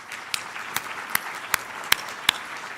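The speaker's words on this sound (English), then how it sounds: "So let's give everyone a hand of applause." Audience applause at a public anniversary event for a health technology ecosystem: only a handful of sharp, isolated hand claps ring out one after another at a steady pace over a quiet room murmur.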